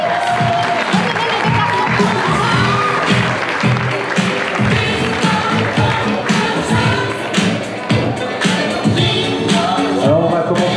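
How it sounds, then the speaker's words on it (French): Audience at a French latte art championship awards ceremony applauds and cheers for the international judges, sustained clapping with whoops and crowd voices, lively and loud throughout, with music faintly underneath. "Un tour d'applaudissements encore pour les juges internationaux"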